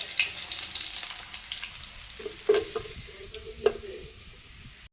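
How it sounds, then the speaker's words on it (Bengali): Potato french fries frying in hot oil, a steady close sizzle with scattered clinks and a brief water-like hiss, no talking. "মানে ভাজছি কুড়মুড়ে ফ্রেঞ্চ ফ্রাই"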